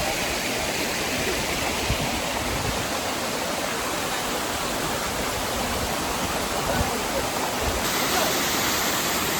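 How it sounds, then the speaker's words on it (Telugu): The Bahubali waterfalls rush in a steady, loud roar of white water that holds unbroken for the whole stretch, with no voices over it. "guys, Baahubali water falls"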